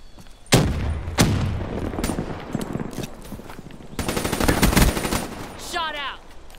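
HVK 30 assault rifle firing in Call of Duty Black Ops 3: loud, sharp bursts of automatic gunfire, with single heavy cracks early on and a dense sustained volley later, mixed with game effects and a player's voice.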